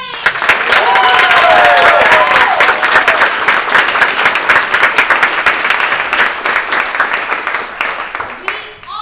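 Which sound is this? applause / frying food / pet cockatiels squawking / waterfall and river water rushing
applause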